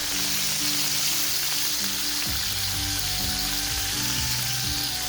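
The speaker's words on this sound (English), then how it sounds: "I'm going to brown it on this side a little bit." Chicken pieces brown in a hot pan for chicken cacciatore, giving a steady, close, dense sizzle that runs unbroken with no talking over it.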